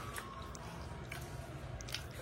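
Close, steady chewing and biting of luchi, a fried puffed bread, with soft squishy crunches running continuously and no talk.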